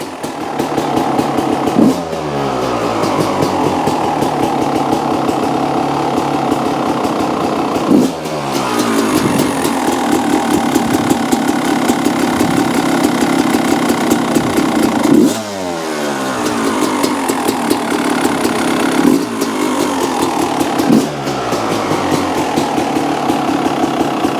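A 1995 Honda CR250 motorcycle engine with a repacked muffler idles steadily and loudly, with a few sharp revs at intervals that rise and fall back to a deep throaty idle.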